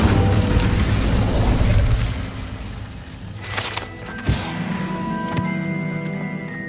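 The Incendio fire spell in Hogwarts Legacy is cast with a loud, sustained whooshing roar of flame, then a sharp burst and a crackling, fading tail, with no talk.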